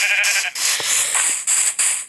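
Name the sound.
sheep bleating in Minecraft video game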